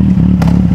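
A 2014 Kawasaki Z800 motorcycle engine drones loud and close with a steady low hum, and a brief clattering burst passes midway.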